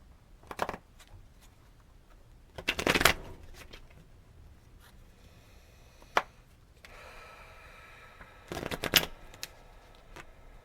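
A Cosmic Tarot deck is shuffled by hand in several quick riffling bursts separated by quiet pauses, close and crisp, with no talking.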